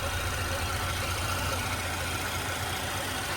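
A car engine idling steadily, a low continuous hum with a faint knock, its revs easing slightly; close and alone without talk.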